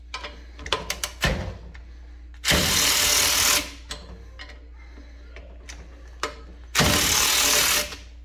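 A Snap-on 3/8-inch impact wrench breaks a bolt loose in two loud, sustained hammering bursts of about a second each, separated by quieter clicks and handling taps, close up with no talk.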